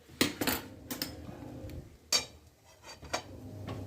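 A metal pot of homemade ghee lifted off the stove, with several sharp clinks and clanks of metal on metal separated by quiet gaps.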